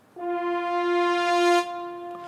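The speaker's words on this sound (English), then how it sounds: "French horns crescendo sounds like this." Logic Pro stock orchestral French horns sounding one sustained brass chord that swells steadily louder for about a second and a half, then cuts off, leaving a faint tail.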